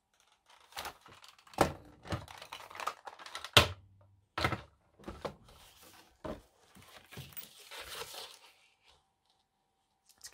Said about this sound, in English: So let's cut this here to 3 inches.